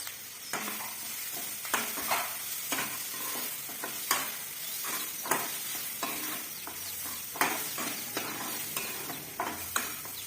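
Turmeric sautés in a pan, a faint steady sizzle punctuated by a regular series of light spatula scrapes and taps at a quiet level, no voices.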